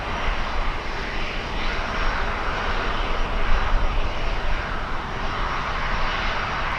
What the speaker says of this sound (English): Finally, we have a takeoff on runway 9.